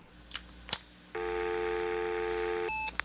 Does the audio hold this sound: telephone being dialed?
yes